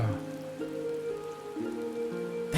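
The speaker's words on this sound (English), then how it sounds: "it's raining out." Rain falls steadily in the Final Fantasy XIV: Endwalker video game, a soft, even hiss that runs throughout beneath sustained musical tones.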